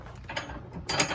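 Metal pins being pulled and released during camper setup, giving short mechanical clicks and rattles with a louder clank near the end, close by and with no talking.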